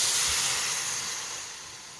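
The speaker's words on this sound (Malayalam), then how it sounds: "ആവശ്യത്തിന് വെള്ളം ഒഴിച്ച്" A loud hiss of steam bursts up as water is poured into a hot pan over frying fish eggs, then gradually fades over a couple of seconds.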